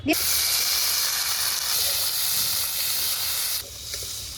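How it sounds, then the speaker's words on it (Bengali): Whole potatoes are poured into hot oil in a kadai, setting off a loud, steady hiss and sizzle that starts at once and holds, then eases slightly near the end. "তেলও গরম হয়ে গেছে এবার কড়াইতে এগুলো ঢেলে দিই"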